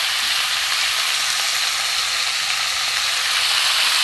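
Rohu fish pieces fry in a pan with a steady, dense sizzle and crackle of hot oil, close and loud throughout with no talking.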